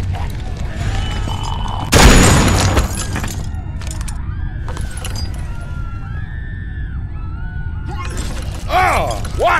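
Single loud gunshot in The Walking Dead video game, a sharp blast followed by a short ringing decay, with characters shouting before and after it.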